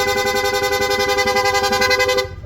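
On a Honda Click 160 scooter, a PIAA horn held down in rapid mode gives one loud, close, continuous blare with a fast warble running through it. It lasts just over two seconds, then cuts off sharply.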